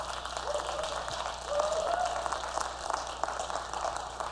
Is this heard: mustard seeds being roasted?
no